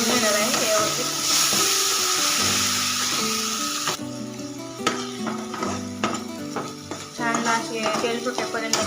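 Tomato paste masala frying in oil, a steady sizzle with stirring scrapes and clinks of a utensil against the pan, under background music.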